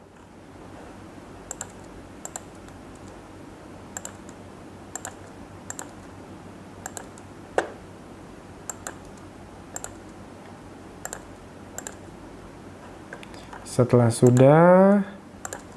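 Sparse, single computer keyboard keystrokes click at irregular intervals in a quiet room, faint and close, before a short burst of speech at the end.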